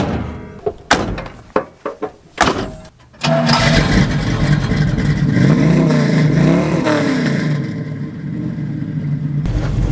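A 1967 Camaro with a carburetor needing cleaning makes several sharp thunks, then cranks and starts, settling into a loud, steady, close idle with slight revving.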